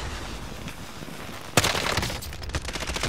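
A sudden burst of rapid gunfire in the video game Warzone cuts in partway through, sharp cracks following in quick succession over a steady background hum.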